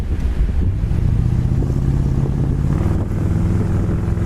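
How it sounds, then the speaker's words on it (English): A 1963 Mercury convertible's 390 engine roars steadily under heavy kickdown acceleration into second gear, a continuous low rumble with wind noise, no one speaking. "punch it down, the kick down works, shifts it right down into second gear"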